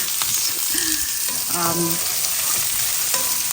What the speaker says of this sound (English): So onions are cooking away.